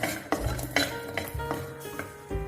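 Whole garlic cloves dry-roasting in a pan for idli milagai podi, with repeated scraping and clinking of a spatula against the metal pan over a faint background, no talking.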